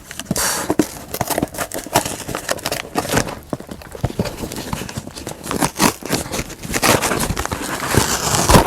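Scissors snipping and tearing through a parcel during an unboxing, heard as a dense run of sharp clicks, crinkles and ripping plastic, close and busy throughout.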